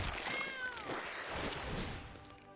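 A cat meows from the Sacred Cat card being played in Magic Arena, a single drawn-out, rising-then-falling meow heard up close and alone over a faint background.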